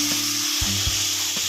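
Onions frying with ginger garlic paste in a pan for egg masala, a dense, bright continuous sizzle with a few soft stirring knocks underneath, close and steady with no voices.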